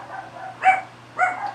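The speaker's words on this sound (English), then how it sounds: "Oh, there go my dogs." Dogs bark indoors, two short sharp barks about half a second apart, moderately loud over a low steady background hum.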